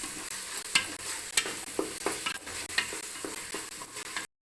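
Onion and coriander being sautéed in a pan for chicken biryani, with a continuous sizzle broken by repeated sharp scrapes and clinks of a spoon stirring, close and fairly loud, no talk.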